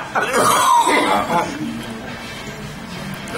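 A person gives a short burst of coughing mixed with laughter, close up, then it trails off into quiet background noise.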